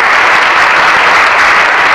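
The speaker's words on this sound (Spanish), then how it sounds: "El aplauso para uno de los más benjamines de esta agrupación cultural." Dense, loud applause from an audience fills the whole moment, steady clapping for a young member of a cultural group at a 1989 performance.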